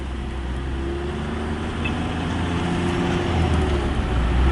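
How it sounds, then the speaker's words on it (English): Land Rover Defender engine working steadily to climb a hill, a continuous low rumble that swells slightly toward the end as revs build, close and alone with no talk. "see what sort of revs you need to get back up that hill without spinning"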